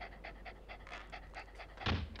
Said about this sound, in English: It's an actual doggy.